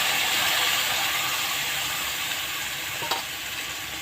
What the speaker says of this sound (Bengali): এবার একটু মশলাটা আমি কষিয়ে নেব।